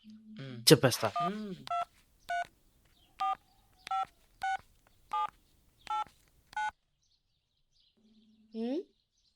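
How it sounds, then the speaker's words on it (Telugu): A person speaks briefly, then a series of about nine evenly spaced keypad tones beeps as a number is dialed, followed by a short ringing tone. "ఆ నెంబర్కి కాల్ చేసి"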